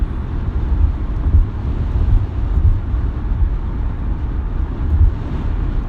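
Strong wind gusts buffet a vehicle driving up into higher, colder elevation, a steady heavy low rumble that swells in a few surges across the whole stretch, with no voices.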